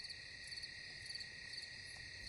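Crickets chirp at night in a steady, dense chorus of high-pitched trilling insects, continuous and fairly faint, with no voices.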